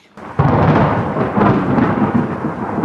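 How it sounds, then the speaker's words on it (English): A deep roll of thunder breaks in after a brief quiet and rumbles on over steady, heavy rain, loud and close. "a roar of thunder announced the arrival of the storm"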